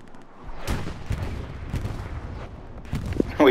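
Bursts of gunfire crack out in a multiplayer shooter video game, a string of sharp shots and clusters at varying distances, loud and irregular, with a louder burst near the end.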